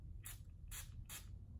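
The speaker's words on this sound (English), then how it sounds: "that's a pretty intense spray" Three quick, sharp bursts of a makeup setting spray mist, each a short airy hiss, evenly spaced, close by with a low background hum.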